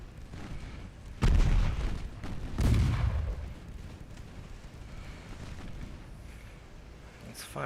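Warship main guns fire in the naval video game Ultimate Admiral Dreadnoughts, two deep booming blasts about a second and a half apart, each followed by a rumbling decay over a low background of sea and engine noise.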